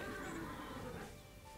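A horse neighs in the Horse Tales video game, a single whinny rising over steady in-game ambient noise, moderately close and fairly quiet, with no talk.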